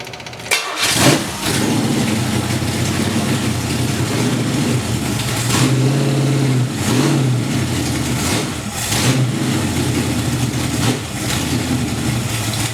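A cold engine on a homemade run stand, not started in a while, cranks and catches, then idles roughly with repeated revs of the throttle, loud and close, with no voices.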